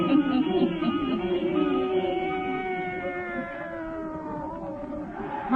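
A black cat meows in a long, drawn-out, wavering wail that slides downward in pitch, close and clear with no talking over it, an old-time radio drama effect.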